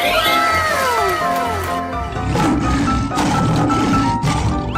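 A lion calls in a 3D animal slide video game, a snarling, cat-like cry up front that gives way to busy game music and effects.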